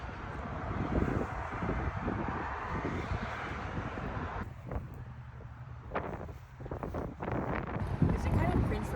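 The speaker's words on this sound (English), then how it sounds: "It's also very windy." Strong wind buffets the microphone outdoors on a lawn-mowing day, a rough, gusting rumble that rises and dips throughout.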